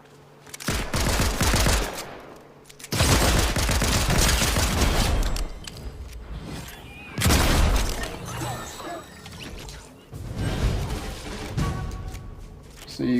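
Loud bursts of Fortnite gunfire, rapid fusillades from an assault rifle or DMR in several heavy volleys separated by brief lulls, with game impacts and crashes in between.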